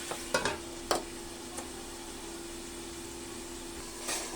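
Chicken cooks in its own fat in a covered pan with a soft, steady hiss, broken by a few light clinks and knocks early on and a brief rustle at the end.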